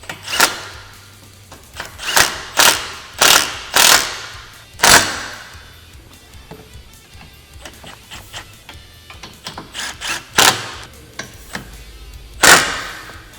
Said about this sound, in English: So now we're going to fully tighten these clamps.